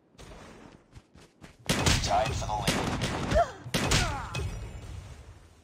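Shotgun blasts in a shooter video game, a few sparse thuds at first, then a louder stretch of heavy booming shots and impacts, with voices talking over parts of it.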